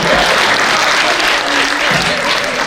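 Dense audience applause at a live Hindi comedy poetry show fills the whole stretch, loud and steady from start to finish, with faint crowd murmur beneath.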